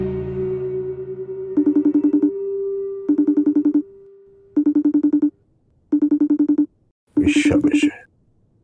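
A mobile phone rings for an incoming video call, a looping tonal ringtone in five short bursts separated by pauses, loud and close, with brief indoor sounds over the last burst.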